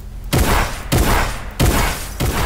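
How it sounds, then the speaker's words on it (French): Heavy gunfire in Fortnite comes as four loud, booming shots or bursts spaced about half a second to a second apart. Each one is close and rumbling, with no talk over it. "il tire sur moi"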